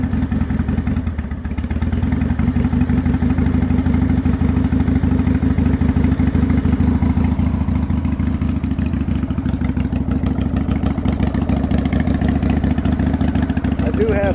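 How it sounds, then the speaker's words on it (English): A Harley Davidson motorcycle with a dead battery and the choke pulled out, baffles fitted in the exhaust, catches after a brief start and settles into a loud, close, steady idle with a continuous throbbing rumble. "I'm trying to fire it up with a dead battery here."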